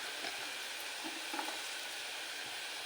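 Onions frying in a pan for a Marathi-style mutton curry, a steady close sizzle with faint crackles and occasional soft stirring taps, no voices.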